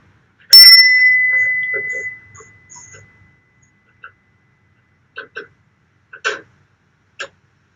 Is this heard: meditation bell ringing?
yes